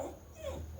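A dog yips and whimpers faintly in the background of a home, a brief, soft canine sound with no talk over it.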